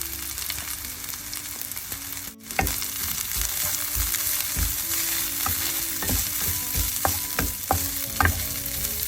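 Onions and coconut sautéing in a pan for tin fish curry, a continuous close sizzle punctuated by regular scraping and tapping strokes of a stirring spoon.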